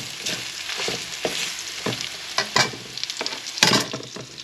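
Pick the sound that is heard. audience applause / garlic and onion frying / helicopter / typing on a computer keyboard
garlic and onion frying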